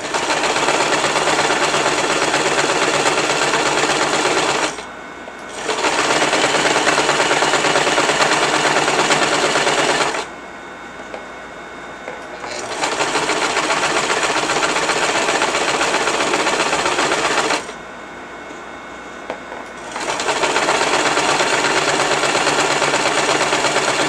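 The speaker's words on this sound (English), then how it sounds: "There's gonna be like a lot of sewing machine ASMR," A sewing machine stitching a petticoat runs loud and close in a steady mechanical chatter, stopping twice for a second or two in between long continuous runs.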